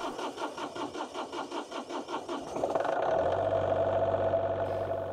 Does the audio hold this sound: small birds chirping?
no